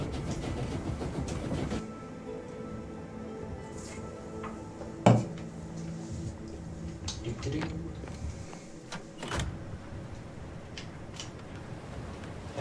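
A train in the video game Bookwalker rolls into town, a low rumbling drone with clattering metallic clanks and a sharp bang midway, heard alone and fairly faint.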